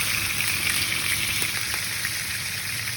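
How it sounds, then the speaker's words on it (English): Chuck steak burger patties smashed onto a hot surface sizzle loudly and steadily, a dense close frying hiss with faint crackles throughout and nobody speaking. "Smash the burgers."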